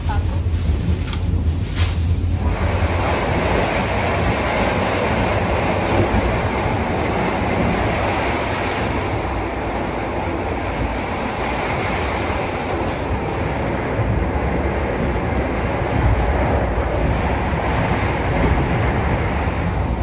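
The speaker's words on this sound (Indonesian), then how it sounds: "Jadi saya lagi di kereta makan kereta api Malabar. Kereta makanya cukup berisik ya." Steady loud rumble and rattle of the dining car of the Malabar train in Indonesia in motion, with wind-like broadband noise throughout and faint voices underneath.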